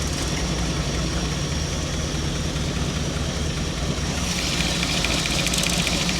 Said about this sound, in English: I don't know if you can hear the clicking or not, but it's clicking.